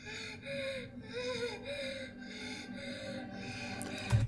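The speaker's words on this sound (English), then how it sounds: "That is some very intense panting going on right there." Intense, rhythmic panting from an animated character in a RWBY Ice Queendom episode, breaths rising and falling steadily over background music, close and fairly loud, ending on a sharper sound.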